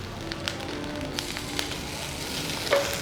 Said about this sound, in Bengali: এবার আমার যে পার বয়েল করা ভেজিটেবলগুলো আছে একটু মাখনে টস করে নেবো